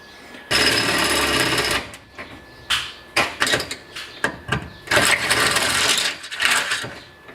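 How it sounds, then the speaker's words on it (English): Power drill boring up from underneath through a rollcage mount in a Mazda MX-5, loud whining bursts of varying length separated by short pauses, close and with no talking. "So I'll just drill up now from underneath and just try and line it up with this one here and this one here"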